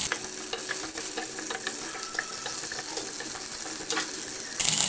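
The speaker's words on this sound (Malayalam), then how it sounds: "ചെറിയൊരു കഷ്ണം വഴുതനങ്ങ ഇട്ട് കൊടുക്കുന്നുണ്ട് അത് നമുക്കൊന്ന് വഴറ്റിയെടുക്കാം" Steady sizzling from a hot pan with occasional scraping stirs, shallots and brinjal frying close by with no talking.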